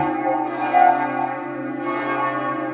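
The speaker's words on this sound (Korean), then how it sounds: "그리고 성당에 잘 어울리는 종소리가 들리고 있죠." A cathedral bell rings in a spacious soundscape with two resonant strikes, the second about two seconds after the first. Each strike sustains a long, rich hum, and there is no talking.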